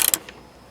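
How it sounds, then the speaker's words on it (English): A few quick metallic ratcheting clicks from a spanner tightening the nuts of new tuners on an acoustic guitar headstock, close and brief, fading into quiet handling noise. "we get our spanner, wrench, and just tighten them up"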